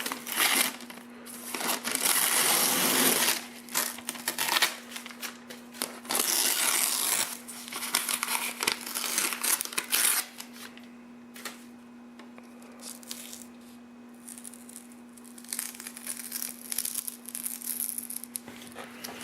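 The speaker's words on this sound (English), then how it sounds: "take off this masking paper." Masking paper being peeled and crumpled off a freshly lacquered Philco 623 radio cabinet, bursts of loud tearing and crinkling rustle over a steady low hum, coming and going in several pulls.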